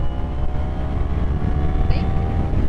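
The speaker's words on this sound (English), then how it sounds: "I think the tone of this exhaust is quite nice" A small motorbike's exhaust drones steadily while riding, a close, even engine hum with wind beneath it.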